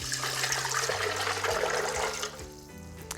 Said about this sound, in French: vous mettez les amandes dans le bol en inox, vous rajoutez l'eau